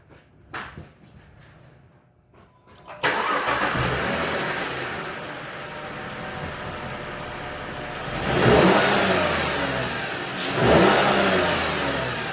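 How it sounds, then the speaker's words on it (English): A car engine cranks and catches after a few quiet clicks, settles into a loud steady idle, then gets two sharp throttle snaps that rise and fall. "Start up, start the car, and then I'm going to give it a couple snaps."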